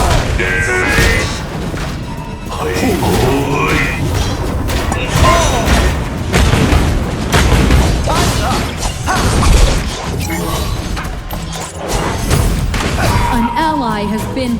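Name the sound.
explosion detonating in video game Arena of Valor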